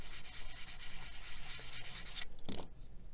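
Fine sandpaper rubs steadily over seams on a large plastic Unicorn Gundam model kit part, a close, soft, continuous scratchy hiss that ends in a brief scuff.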